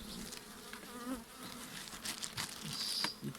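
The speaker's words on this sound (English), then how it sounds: "very calm bees" Calm honeybees buzz steadily around an open hive of a newly fed swarm, a dense close drone with individual bees zipping past the microphone, no talking.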